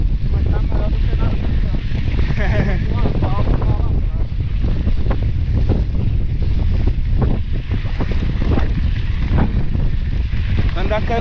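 Strong wind buffeting the microphone during an evening mountain bike trail ride, a loud constant rumbling roar with gusty fluctuations throughout.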